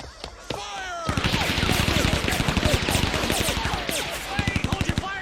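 Rapid automatic gunfire from the anime film Akira, a dense stream of loud shots fired in quick bursts, with voices shouting over the barrage.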